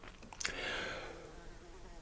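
Flies buzz in a hot, closed-up room, one passing close with a rising, swelling whine before fading into faint background hum, quiet overall.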